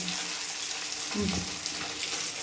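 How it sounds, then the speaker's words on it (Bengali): Fish sizzles steadily in hot oil in a pan, a continuous close frying hiss with a brief stir or shift of the fish partway through. "মাছটা ভাজছি করে নিই"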